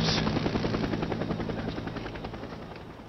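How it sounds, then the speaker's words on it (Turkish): A helicopter flies overhead in the video game Days Gone, its rotor thumping in a fast, steady chop that starts loud and slowly fades as it moves away. "Ooo, işte helikopter yine."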